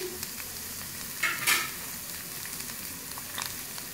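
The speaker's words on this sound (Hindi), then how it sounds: "अब इसको हल्का सा फ्राई करेंगे।" Washed chicken pieces with a little turmeric fry lightly in a pan, giving a steady soft sizzle with a brief louder stirring burst.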